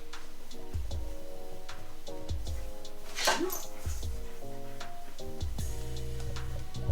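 A dog yips and whimpers in short bursts indoors near a kitchen counter, with a steady ticking in the background and brief rustling in between.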